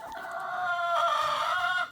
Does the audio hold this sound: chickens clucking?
yes